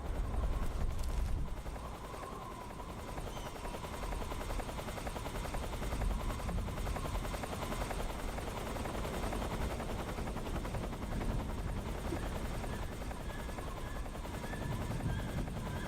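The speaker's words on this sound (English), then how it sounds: "Oh my god, that's a helicopter." Helicopter in Metal Gear Solid 3: Snake Eater on the Krasnogorye mountainside, a dense continuous rotor thrum with rapid chopping pulses, loud and steady throughout, with faint gunfire-like crackles mixed in.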